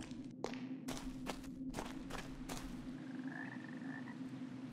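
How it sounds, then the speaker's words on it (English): Several frogs croak in a video game cave setting in Arx Fatalis, a series of sharp, evenly spaced croaks near the start over a steady low drone, then fading into quieter ambience with no talking. "I hear more frogs"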